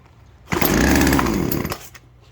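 A Poulan Wild Thing chainsaw, set with partial choke and throttle, fires up and runs loud and close for about a second before cutting out, with no talking.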